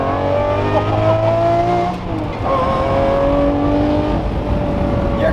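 Custom 6x6 Jeep engine revving loudly with rising and falling pitch over several seconds, close and continuous.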